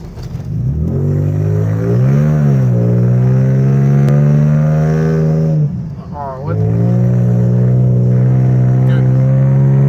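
A straight-piped, all-black Nissan 300ZX revs loudly up close, its deep exhaust note swelling, dipping and rising again in a throaty grumble while a voice exclaims briefly over it.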